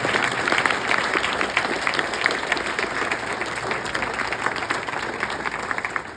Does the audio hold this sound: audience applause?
yes